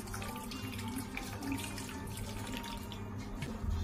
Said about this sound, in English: So all I'm going to do is to first add my milk to my silver bowl right here.